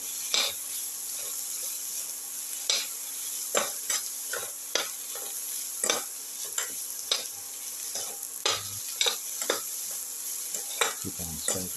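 Chicken sautéing with tomato, coriander, mint and salt in a pan, a steady sizzle broken by repeated scraping stir strokes and light clinks of the spoon against the pan, with no voices.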